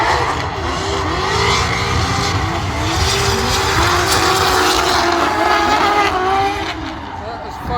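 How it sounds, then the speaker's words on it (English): Several cars tandem drifting together at a drift festival, a loud continuous roar of engines with tire squeal mixed in, close and sustained, with people talking faintly underneath. "That's tandem drifting."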